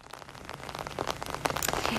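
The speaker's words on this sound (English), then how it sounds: "It's still raining out here, but the rain is steady." Steady rain falls outdoors during a flood, a dense constant hiss of drops on wet surfaces with close, scattered splashes.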